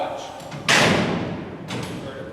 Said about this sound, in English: This is the sound of the clutch.